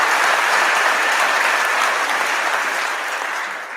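A TEDx audience breaks into sustained, dense applause, loud and steady throughout before easing slightly toward the end, with no voices over it.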